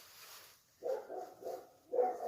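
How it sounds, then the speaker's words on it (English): Several dogs bark in short bursts, close to moderately near, during the first build of a see-through four-stroke engine, with a faint noisy background between barks. "I'm sorry for dogs. They're just mad."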